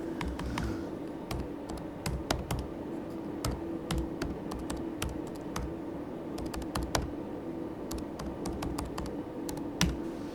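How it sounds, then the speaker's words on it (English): A search query being typed on a computer keyboard: quick, close keystrokes clatter steadily throughout, with irregular louder taps standing out and no talking. "The fact that we actually have to type it in as a query is a bit of a drag."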